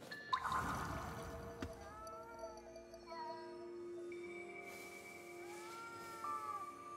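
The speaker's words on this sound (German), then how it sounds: "Oh Katze, warst du eingesperrt?" A cat meows repeatedly in the Ghostwire Tokyo video game, rising and falling cries spread across several seconds over quiet background game ambience, with a brief clatter at the start.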